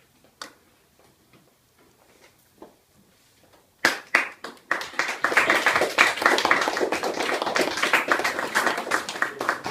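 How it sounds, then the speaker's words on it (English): Audience applause after an author talk, beginning with a few isolated claps that swell into steady, full clapping that carries on to the end. "Let's give her another round of applause"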